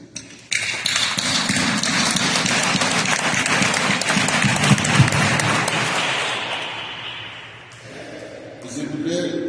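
A church congregation at a tenth-anniversary consecration celebration breaks into sustained applause, many hands clapping loudly and evenly before the sound thins and fades, with a few voices emerging at the end.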